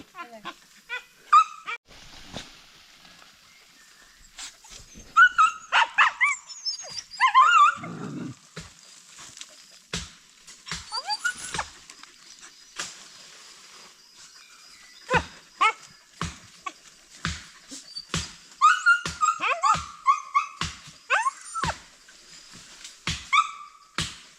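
A dog barks repeatedly in short sharp bursts, fairly close, with scattered clusters of barks across the stretch amid outdoor ambience during heavy rain.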